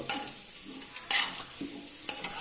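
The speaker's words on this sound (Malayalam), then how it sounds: "അങ്ങനെ നമ്മളിതാ ഇങ്ങനെ ഇളക്കിയാണ്" A utensil stirs food in a pan so it won't stick to the bottom, giving soft scraping strokes over a steady low sizzle, with a sharper scrape near the middle.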